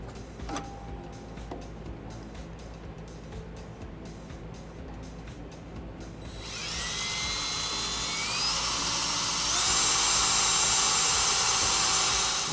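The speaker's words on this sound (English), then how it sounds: "Now we have our pilot hole drilled." A power drill bores a pilot hole in the steel frame of a 2009 Dodge Ram 1500 for a front-mount trailer hitch, a steady whining drone that rises and grows louder partway through, with no talking.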